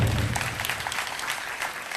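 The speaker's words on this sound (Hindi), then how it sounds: "इनकी अतिरिक्त मेहनत के लिए भी मैं चाहता हूं आपकी तालियां उठे" A crowd at a Hindi poetry recital applauds a poet, a thick, busy burst of many clapping hands that stays loud and fairly even throughout the short span.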